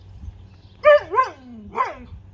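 A dog barking at a lawn mower gives three short, whiny, high-pitched barks with a whimpering edge, close and fairly loud over a quiet background, with no talking.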